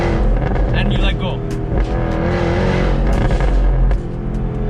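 A Jaguar F-Type R engine held between 4,000 and 5,000 RPM gives a loud, rough, crackling roar, steady and close throughout the short stretch.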